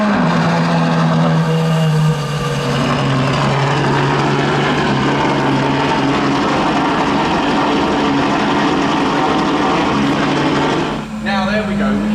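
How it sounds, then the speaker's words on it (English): A V12 Ferrari's cold-start exhaust gives a loud, sustained roar with a deep droning rumble throughout, steady and close, dipping briefly near the end before resuming. "let's hear how ridiculously loud this thing is"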